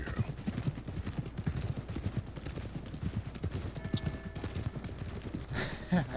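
Hooves of a Mustang horse in the video game Red Dead Redemption 2, a steady rapid clip-clop of galloping hoofbeats, close and continuous, with a brief faint call near the end.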